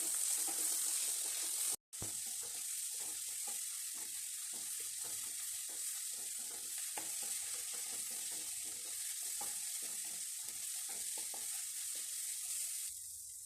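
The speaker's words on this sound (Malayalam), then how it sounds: "ഈ ടൊമാറ്റോയും കൂടെ ഇതിലേക്ക് ഇട്ട് കൊടുത്ത് നന്നായിട്ടൊന്ന് വഴറ്റിയെടുക്കാം" A large ripe tomato sautés in a pan for tomato rice, frying with a steady hiss as a spoon scrapes and stirs in an even, repeated rhythm, close and moderately quiet.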